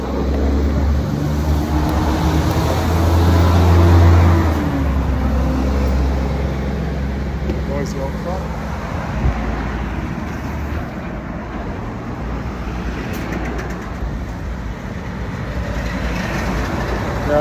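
Fast road traffic rushes past near a Fremantle traffic bridge detour, a steady loud roar with a heavier swell early on that then holds constant.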